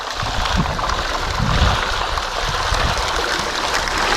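Water poured over gravel into a gold panning classifier beside an Irish river, a loud, continuous rushing splash with no talk over it.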